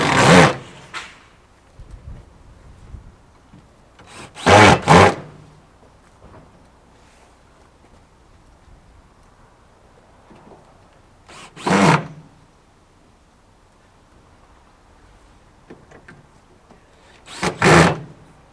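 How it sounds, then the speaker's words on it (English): Power screwdriver driving screws through plywood onto steel brackets of a sheet pile capping beam, four short whirring bursts separated by quiet pauses, close and fairly loud. "it's just basically screw the ply on."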